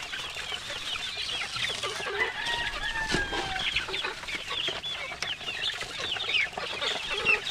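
Chickens and young chicks clucking and peeping in a busy, continuous chorus, with bright overlapping chirps over a steady farmyard background, fairly close and with no talking.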